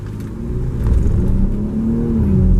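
A 2019 Ford Edge ST with the 2.7 EcoBoost engine accelerates hard from a standstill toward 60 mph, its low engine note building steadily and loud from inside the cabin, with no talk.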